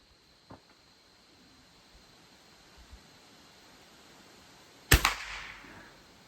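A single sharp rifle crack from a USSR Toz 8M .22 LR bolt-action rifle at an outdoor sighting-in range, close and loud against quiet background hiss, with a short fading tail and a few faint clicks before it.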